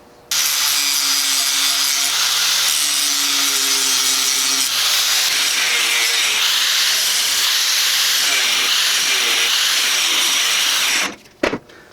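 An angle grinder beveling out a crack in a cast steel Parker bench vise before welding, a loud continuous abrasive hiss and whine for about eleven seconds that cuts off abruptly, close by.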